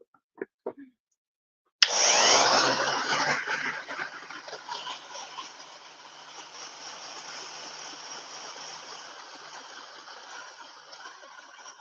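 A handheld hair dryer blows on a painted club after a few light taps, switching on abruptly with a loud, close, steady whooshing roar and thin whine that runs unbroken to the end, with no talking.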